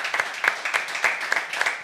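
A TV studio audience at a comedy show applauds, a steady wash of many hands clapping at moderate volume with sharper individual claps poking through, alone and without talk.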